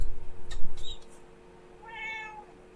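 A domestic cat meows close by: a short mew, then a longer drawn-out meow a moment later, clear against a quiet indoor background with no speech.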